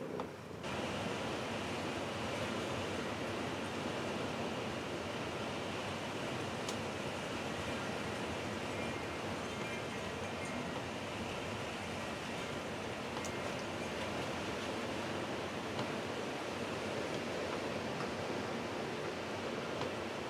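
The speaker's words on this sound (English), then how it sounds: "wind gusts of 60 miles an hour" Strong wind gusting to 60 miles an hour roars continuously with a dense, rushing noise that barely lets up, like heavy gusts buffeting the microphone.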